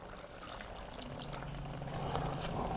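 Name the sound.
pouring beef broth into a pressure cooker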